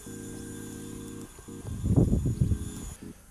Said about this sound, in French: fouetter votre crème, celle-ci en plus va refroidir et vous allez obtenir normalement un appareil très onctueux, légèrement mousseux